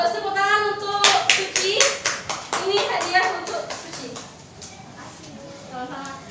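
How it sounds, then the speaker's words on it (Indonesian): Pupils in a fifth-grade classroom clap for a classmate, a quick burst of sharp, close hand claps that taper off, with children's voices over it. "tepuk tangan untuk Suci"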